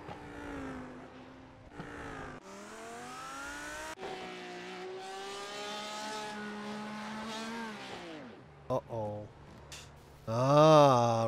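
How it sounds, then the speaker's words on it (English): Porsche race car in an IMSA racing video game at Watkins Glen, its engine revving high and shifting through gears, pitch climbing and dropping, with a brief pause and a sharp roaring burst at the end, loud and close. "Just sound good, the Porsche though, doesn't it?"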